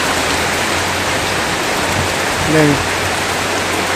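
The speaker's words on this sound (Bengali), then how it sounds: "ও সেই বৃষ্টি হচ্ছে দেখি" Steady rain falls on a building site, a dense even hiss throughout with a low hum beneath and a brief faint voice-like sound near the end.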